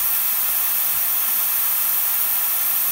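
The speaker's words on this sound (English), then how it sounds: "the steam is much more powerful" Steam wand on an Isomac espresso machine hisses in a loud, steady, unbroken jet of steam, close and alone without any talk.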